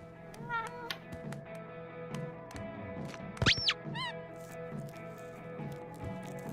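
A cat in the video game Life is Strange True Colors lets out a brief rising meow over a steady game soundtrack, with small squeaky chirps around it.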